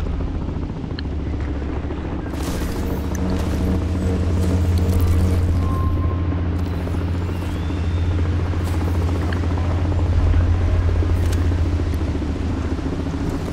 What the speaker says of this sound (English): I heard a helicopter.